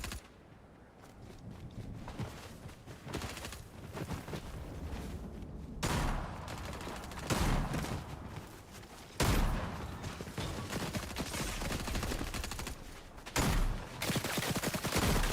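Rapid bursts of gunfire from a weapon in Fortnite, loud and near, with several breaks and renewed volleys across the stretch amid game ambience.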